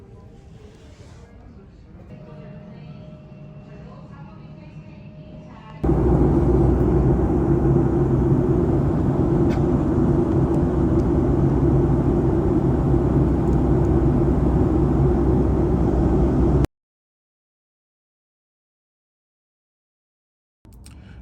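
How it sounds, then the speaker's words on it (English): An airplane takes off: a loud, steady jet engine roar swells in suddenly and holds for about ten seconds, then cuts off; quieter background noise comes before it. "You wanna watch the airplane take off?"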